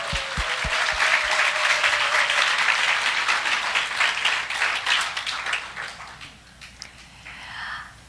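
Church conference audience breaks into warm applause, a full burst of close clapping from many hands that swells, holds for several seconds and then fades, with a brief tonal note and a few sharp knocks at the start.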